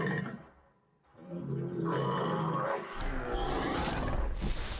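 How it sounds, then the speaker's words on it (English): A sea lion lets out a deep, bellowing roar, a sound repurposed for the Ankylosaurus in Jurassic World; the low, throaty calls run loud and close, with one break in the middle. "Here's our sea lion."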